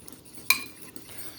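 Spoon stirring leftover tomatillo salsa into eggs in a dish: one clear clink of metal on the dish, then softer scraping and a faint second tap, all close and brief.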